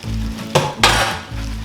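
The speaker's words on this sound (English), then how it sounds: "Now I am going to add all of the barbecue tri-tip and sausage that I warmed up in the pan." Warmed leftover barbecue tri-tip and sausage dropped into a hot pan for ramen, giving two loud sizzling bursts over a steady background frying hiss, with faint utensil clinks.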